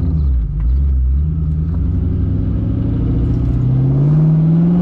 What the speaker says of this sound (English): Now I'm gonna come through a corner and transition to show you guys that this thing can actually drift